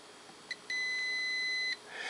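A multimeter's continuity beep while testing a car brake light switch: a short chirp followed by one steady, clear, high electronic tone lasting about a second, close and alone over faint background hiss.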